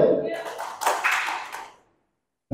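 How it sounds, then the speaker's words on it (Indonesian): Audience clapping on cue at a talk show event, a short ragged burst of hands clapping that swells, then quickly dies to silence, followed by a sudden sharp sound at the very end. "Tepuk satu."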